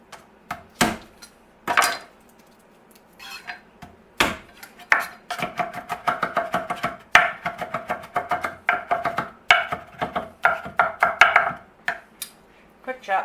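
A knife quickly chops garlic, beginning with a few spaced strikes and then breaking into a fast, uneven run of close, sharp chops with no talking.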